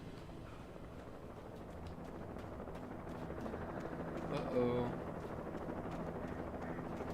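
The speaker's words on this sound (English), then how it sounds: "they called in the chopper. You don't beat the chopper." Police helicopter in the Alan Wake video game, a steady low rotor drone that swells briefly midway, heard under a voice.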